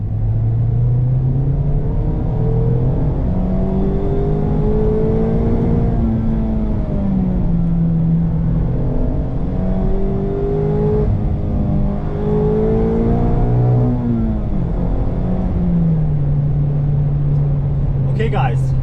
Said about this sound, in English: first impression for me with my new Friedrich Motorsport exhaust